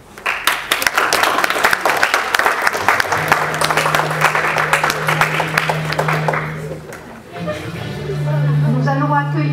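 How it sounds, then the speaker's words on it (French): Audience at an improvisational theatre match applauds loudly to welcome the teams, a dense burst of clapping that runs several seconds, joined by a sustained musical tone, and fades into a voice speaking near the end. "deux très formidables équipes que je vous demanderai d'accueillir sous vos applaudissements"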